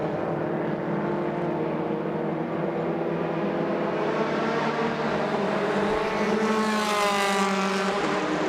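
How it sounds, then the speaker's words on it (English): Race car lapping the track during MRF Challenge free practice, a sustained high engine drone that rises in pitch as the car accelerates, steady and fairly close throughout. "Comes the number 3 car of Angad Mathuru, and he now gets well out of the way of Ishan Dodiwala"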